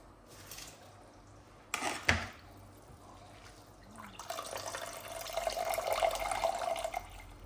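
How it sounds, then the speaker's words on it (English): Parboiled, washed rice is drained for coconut jollof rice: a sharp clatter of pot or strainer, then a steady rush of water pouring and splashing that grows louder and continues to the end. "So I have to filter the rice and put it inside."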